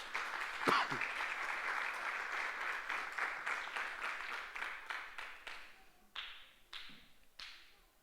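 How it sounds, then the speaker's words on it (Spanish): A church congregation applauds steadily, many hands clapping in a continuous patter that fades into a few last scattered claps. "Dele un aplauso al Señor, pues."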